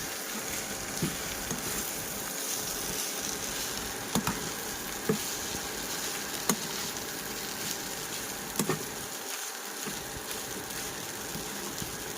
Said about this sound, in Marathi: छानपैकी ढवळूया.